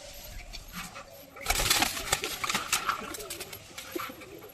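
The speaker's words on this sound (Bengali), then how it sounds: "এই যে পায়রা" High flyer pigeons coo softly in a loft, with rustling, shuffling and bursts of wing flapping, over a steady low background hum and no clear talk.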